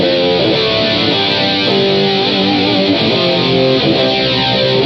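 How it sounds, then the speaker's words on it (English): Electric guitar played through the distortion setting of an MXR Rockman X100 analog tone processor, a dense, loud, continuous saturated tone with sustained chords and notes throughout, no voices. "And here's distortion."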